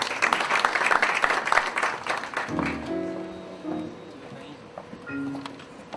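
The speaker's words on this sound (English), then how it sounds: "A very, very big round of applause." An award ceremony audience gives applause for winners; dense clapping fills the first half and then thins out, while a murmur of voices and some tonal background sound take over toward the end.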